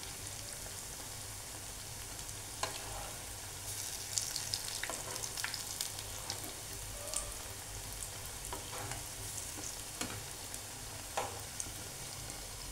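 Sweet corn pakoda frying in hot oil, a dense continuous crackling sizzle with occasional sharper pops and a few stirring scrapes, close and steady without talk.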